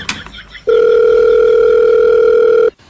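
A telephone tone sounds loud and close, a steady unbroken electronic beep lasting about two seconds and starting after a short burst of background noise, with no talking.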